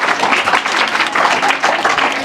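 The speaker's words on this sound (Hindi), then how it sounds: "इनके लिए एक बार तालियां।" Student audience at a motivation session breaks into steady, dense applause that fills the hall, loud and close, with no pauses throughout.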